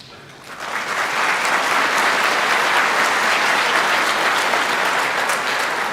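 At a bioengineering department graduation celebration, the audience breaks into a loud round of applause that swells quickly and holds steady for several seconds.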